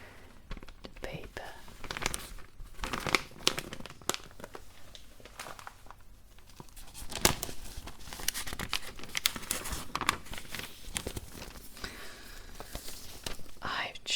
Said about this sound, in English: And now I'm going to change